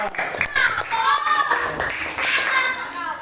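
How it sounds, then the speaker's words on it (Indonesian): Schoolchildren in a classroom clap for a group of classmates, a brief burst of hand claps mixed with children's voices and chatter throughout. "Tepuk tangan untuk kelompok 2."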